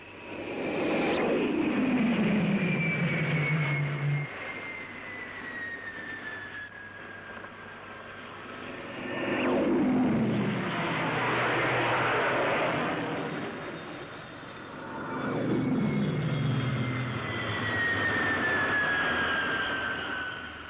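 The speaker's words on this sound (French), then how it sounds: "Chaque 30 secondes, un avion apponte et dégage aussitôt vers l'avant, laissant le champ libre au suivant." Three jet aircraft, Aquilon all-weather fighters, roar in one after another landing on the aircraft carrier Clemenceau, each a loud swelling rush with a falling whine, spaced several seconds apart on a noisy deck.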